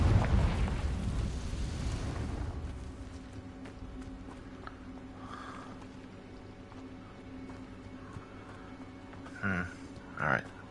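Casting of the Incendio fire spell in the Hogwarts Legacy video game: a broad whooshing fiery blast that fades over a few seconds into quiet ambience, followed by two short sharp pops near the end.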